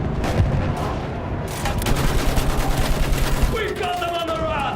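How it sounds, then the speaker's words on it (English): Machine gun fire in a Battlefield 1 World War I trench battle, a continuous loud rattling barrage with scattered explosions and battle noise throughout, and a brief shouted voice near the end. "Use that machine gun!"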